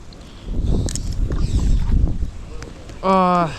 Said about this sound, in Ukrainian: Вітер дує просто нереально.